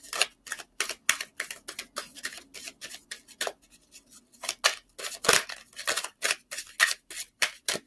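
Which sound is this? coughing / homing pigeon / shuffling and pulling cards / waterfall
shuffling and pulling cards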